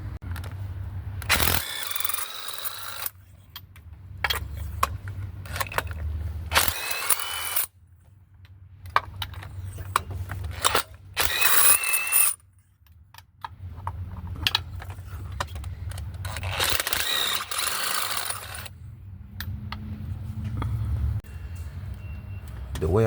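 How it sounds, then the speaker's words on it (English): A ratchet works loose the spark plugs on a Honda Accord 2.4L engine, giving bursts of rapid clicking separated by pauses, with someone talking in between. "I'm going to go ahead and break all of these spark plugs free"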